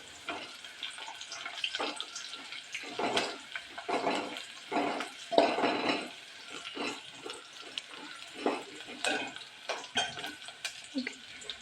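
Onions frying in a pan on a gas stove, with a steady crackling sizzle broken by repeated scraping stir strokes, close and moderately loud with no talk.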